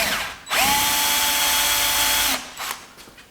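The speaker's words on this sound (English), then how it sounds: "I'll just put an 8mm drill bit in here" A power drill with an 8mm bit whirs loudly and steadily for about two seconds while repairing a Parkinson's model-F vice, starting abruptly and cutting off, with brief quieter clicks and handling noise afterward.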